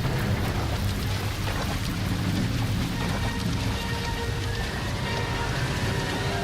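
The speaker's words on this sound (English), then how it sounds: "It's not even raining that hard outside." Steady rain pours in a rainy nighttime scene in the video game L.A. Noire, a dense, even hiss of falling water with low rumble underneath, continuous and fairly loud throughout.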